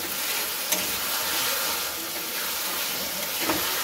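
Chicken and potatoes being fried down for kosha in a pan, a loud, steady sizzle with steamy hiss and occasional stirring clicks, close and continuous with no speech.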